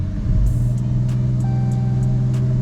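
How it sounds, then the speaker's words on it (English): A high-mileage Chrysler 300 with many electrical faults idles steadily nearby, a loud low engine hum holding even throughout with faint ticking on top. "The motor sounds pretty clean on it."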